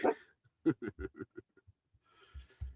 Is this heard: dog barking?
yes